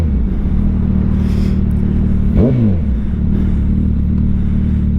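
A 2024 Suzuki Hayabusa 25th Anniversary 1400 cc sport bike engine droning steadily while riding, loud and close, with a brief pitch sweep of a gear change or throttle shift midway.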